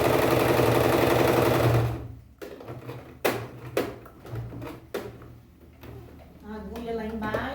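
A sewing machine stitches fabric in a fast continuous whir for about two seconds, then stops. Clunks from adjusting the presser foot and turning the cloth follow, with a brief restart of stitching near the end.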